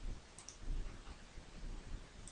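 A computer mouse gives a couple of faint, sharp clicks against a quiet, rustly background, with no voices.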